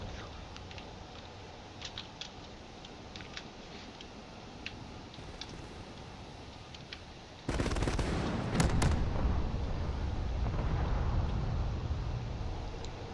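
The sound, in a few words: missiles and railgun fire in a space battle video game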